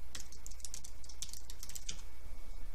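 Keys on a computer keyboard clatter in quick, uneven bursts as a Linux command is typed, close and fairly soft over a low steady hum.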